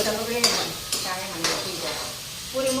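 Spice tempering sizzles in hot oil in a home kitchen before potatoes go in for a Gujarati dish, a steady crackle broken by a few sharp stirring scrapes and clinks, close and moderately loud, with no talk.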